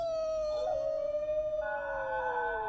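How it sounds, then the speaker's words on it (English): Several dogs howl together in the video game Alluvium, long drawn-out tonal wails that slide slowly in pitch and overlap, with a second howl joining partway through, steady and moderately close with no talking. "The dogs howl with their master."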